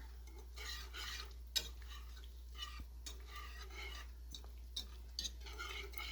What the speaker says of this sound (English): I am adding this package of mozzarella cheese. And I'm going to give this a good stir.